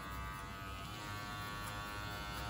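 Electric hair clippers fitted with a number 1 guard buzz steadily and close by while cutting a mid fade, one continuous motor whine with no talking.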